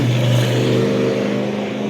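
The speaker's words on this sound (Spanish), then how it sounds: "pasó una moto y se escuchaba muy fuerte" A motorcycle passing close by, a loud steady engine roar that holds the whole time with no break and no talking.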